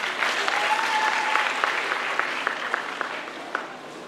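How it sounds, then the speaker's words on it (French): Audience applause at a debate competition final, a sustained wash of many hands clapping at moderate loudness, with a few sharper claps standing out as it tapers. "On peut l'applaudir quand même."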